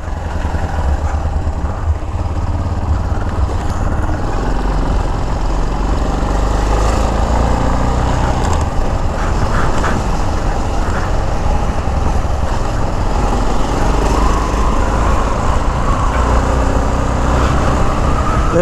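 A Yamaha XT660 motorcycle is ridden slowly, its engine giving a steady low rumble close up over road and wind noise, continuous and loud with no talk.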